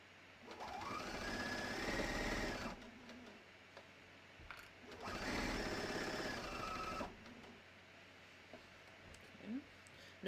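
A sewing machine stitches the knit collar of a mock turtleneck onto a raglan sleeve top in two steady whirring runs of about two seconds each, separated by quiet pauses, with soft talk in between.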